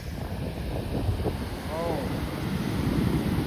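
Rough, storm-driven sea waves roar along the coast at Madhavpur, with strong wind buffeting the microphone in a continuous, loud rush and no clear speech.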